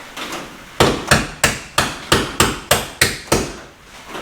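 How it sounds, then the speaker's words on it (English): A hammer knocks a striker loose from a car door latch post, about ten sharp metallic strikes at a steady rhythm, close and loud with no talking. "the striker, you just pop it out with a hammer"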